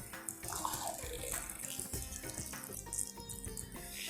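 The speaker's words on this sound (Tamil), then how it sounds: "இன்னும் கொஞ்சம் கூட தண்ணி விடலாம்." Water is poured into a pot of rice for yellow khichdi, a soft, faint gushing splash that swells and trickles for a few seconds.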